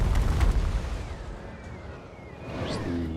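Cannon fire on a Total War: Warhammer 2 battlefield, a heavy booming blast near the start that rolls off into a low rumble, with battle noise and a faint horn-like tone later.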